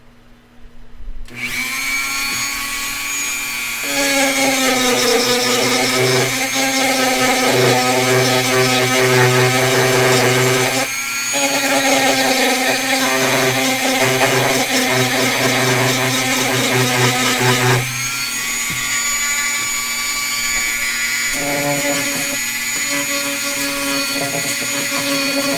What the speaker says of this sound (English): we have a little bit more sanding, so brace yourselves